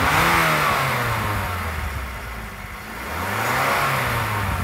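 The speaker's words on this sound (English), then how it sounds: "I'm gonna go ahead and hit the gas real quick" Stock engine of a 2007 Mazda3 hatchback revving in two loud, close pulls, rising in pitch, dropping back toward idle, then climbing again, with no talking.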